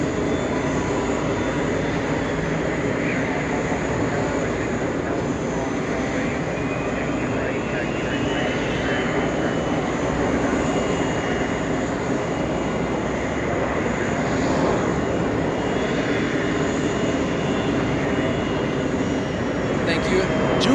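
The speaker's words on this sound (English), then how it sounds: "That's an A321 Neo making the trip from Ireland." An Airbus A321neo jet arrives at JFK from Shannon, Ireland, its engines making a steady, moderate rumble and whine throughout while a voice talks over it.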